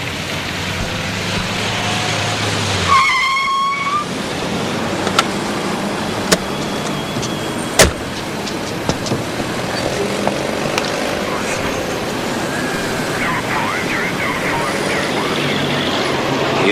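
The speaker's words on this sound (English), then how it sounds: "My favourite bus, this." A bus drives through road traffic, giving a continuous rumble of engine and road noise with a few sharp clicks and knocks. A brief whistling tone comes partway through.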